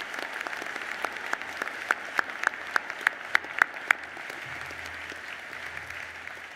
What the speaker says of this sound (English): I invite you to show your appreciation with a round of applause